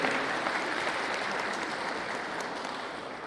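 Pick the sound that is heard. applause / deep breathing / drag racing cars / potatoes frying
applause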